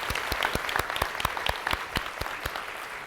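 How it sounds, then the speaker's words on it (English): A conference audience gives a quick round of applause, a fairly sparse clapping with a few prominent nearby hand claps standing out in a steady rhythm over the wider crowd, sustained throughout. "Can you give them a quick round of applause?"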